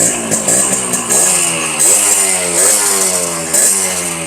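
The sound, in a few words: two-stroke motorcycle engine running and revving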